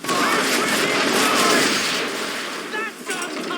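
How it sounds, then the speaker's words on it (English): Cannons and a swivel gun firing from a sailing ship during a naval battle in Assassin's Creed 3, a dense continuous roar of gunfire and crashing over shouting crew voices. "Fire swivel!"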